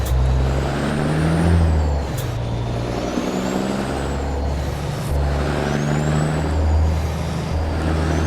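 A Mack B69 truck in American Truck Simulator, its steady low engine drone with shifting tones running continuously, punctuated by a sharp air brake hiss, loud and close.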